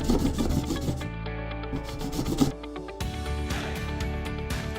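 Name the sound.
hand file removing plastic from a water tank hole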